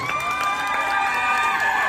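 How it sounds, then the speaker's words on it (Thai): A crowd at a fan meet-and-greet in a shopping mall cheers and applauds steadily, with a bright, sustained roar of shouts and clapping and no clear speech. "ขอเสียงปรบมือดังๆ"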